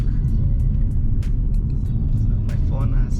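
Steady low road rumble from a car cruising along a road inside Great Basin National Park, heard from the cabin as a continuous drone with small bumps and ticks over it.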